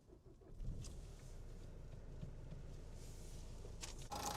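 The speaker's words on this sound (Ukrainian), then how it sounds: "давайте запустимо двигун нашого автомобіля" A 2012 Nissan Qashqai with a 1.5-litre dCi K9K turbo-diesel inline four starts up, its steady low engine rumble rising near 0.6 seconds and settling into a constant idle, with a clunk or click near the end.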